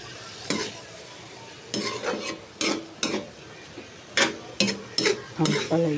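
Ampalaya with egg being stirred in a pan with a splash of added water, a series of scraping, clattering stirs in irregular bursts over a low simmering sizzle.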